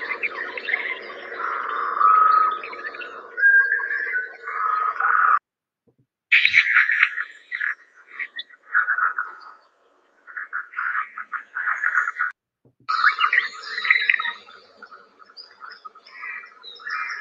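AI-generated toad croaking effect with a deep, resonant, rhythmic call, heard in loud bursts of croaks separated by brief silent gaps, with some chirpy bird-like textures mixed in.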